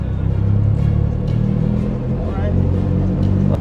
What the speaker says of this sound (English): We drove through town, roof down, with the wind in our hair